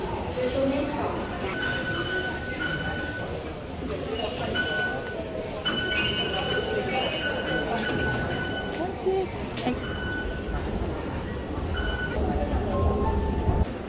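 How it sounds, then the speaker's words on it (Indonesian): A train at Banqiao station in Taiwan rumbles steadily for the whole stretch, with faint tonal chimes or signals above it and people talking in the background. "mau transit naik kereta"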